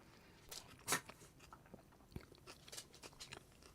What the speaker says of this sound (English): Can you hear the lettuce crunch?